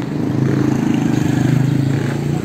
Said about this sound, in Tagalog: Nagpainit tayo ng motor.